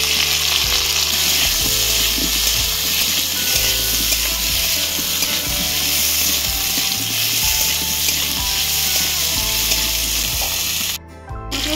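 Fish pieces coated in turmeric and salt frying in hot oil for a Bengali fish curry, a loud continuous sizzle with regular scraping and stirring knocks, close by, cutting off abruptly at the end.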